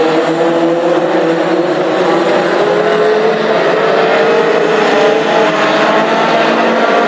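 An immaculate Ford Anglia race car, number 911, competes in a Classic Hot Rods final at Hednesford oval, its engine droning loud and close under steady throttle, with a second engine note layered in and no talk.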